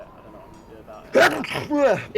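Sudden loud sneeze close by after a stretch of quiet murmured speech, followed by a second burst, during an online chat.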